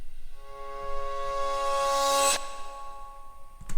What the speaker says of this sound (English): We've got a reverse crash and we've got basically a bit of feedback on the guitar with a volume swell added to it.